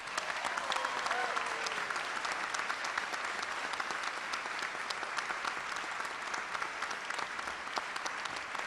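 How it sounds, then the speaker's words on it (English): Sustained audience applause fills the room for the whole stretch, steady and fairly distant, with a faint gliding tone drifting through near the start. "I would like you to please give him a round of applause."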